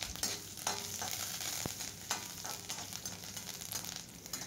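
Dried red chillies and curry leaves roasting in a pan for peanut rice, giving a soft, steady crackle and sizzle with occasional light stirring clicks and scrapes, close but quiet, no talk.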